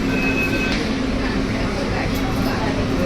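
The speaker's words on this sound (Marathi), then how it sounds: "मित्रांनो मेट्रोमधून आपण उतरलेलो आहोत." A Pune metro train rumbles with a steady, continuous hum and whine from inside the car or platform, broad and loud throughout, while people talk over it.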